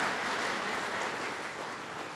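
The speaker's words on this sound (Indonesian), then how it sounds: "Ya tepuk tangan untuk yang ganti soal." Faint, steady audience clapping at a talk on ancestral traditions, a soft, even wash of many hands that slowly tapers without much variation.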